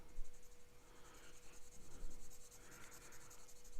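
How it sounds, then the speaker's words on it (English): A Scribo Feel fountain pen with a wet nib scratches and rubs across paper while making an ink swatch, a soft, close, continuous scribbling with short strokes and no talking. "So we'll do an ink swatch here"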